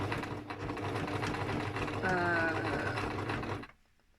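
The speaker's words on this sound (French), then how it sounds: "On va commencer à piquer. Hop, sans point d'arrêt." A sewing machine runs steadily, topstitching fabric close to the edge with no backstitch, a fast continuous mechanical whir up close that cuts off abruptly near the end.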